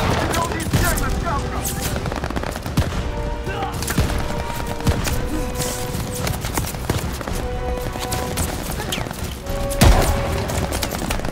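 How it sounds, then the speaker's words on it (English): Call of Duty: Vanguard battle at Stalingrad, with continuous gunfire and sharp shots over a dense, busy din, a few louder cracks standing out, and a voice speaking in the mix. "Where am I getting shot from at?"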